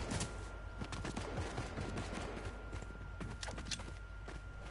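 Rapid bursts of video game gunfire crackle continuously throughout, dense and steady at moderate volume, with scattered sharp impacts and no talk over it.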